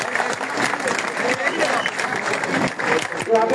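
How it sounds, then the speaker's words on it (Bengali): Applause from an audience at a youth football tournament ceremony in Lalmonirhat, a steady wash of clapping sustained for several seconds with crowd murmur mixed in. "হাততালি দেন তাদের জন্য।"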